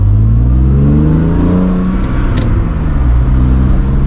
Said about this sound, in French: c'est parti pour tester enfin le M54 dans la E30